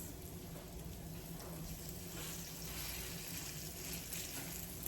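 Latke potato patties fry in a pan with a steady, even sizzle, a soft continuous hiss close by with no talking.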